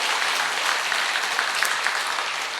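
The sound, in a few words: audience applause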